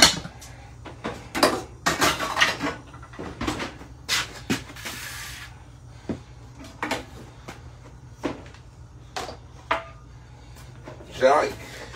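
Clattering kitchen sounds of pots and pans being put away, repeated clanks and knocks, with people talking nearby.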